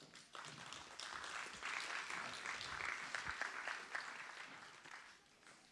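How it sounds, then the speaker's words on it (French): An audience applauding award recipients at a ceremony, a faint, sustained patter of clapping from a modest crowd that swells and then tapers off. "vous pouvez l'applaudir"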